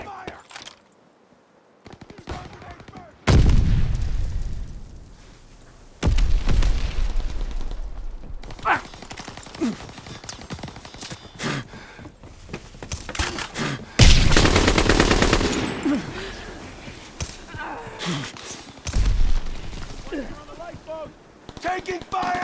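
Rapid bursts of automatic gunfire and heavy booming explosions from a Call of Duty WW2 team deathmatch on the USS Texas map, loud and near, recurring in waves across the whole stretch with shouted in-game voice callouts between.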